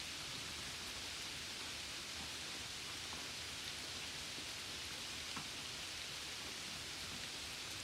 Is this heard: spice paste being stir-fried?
no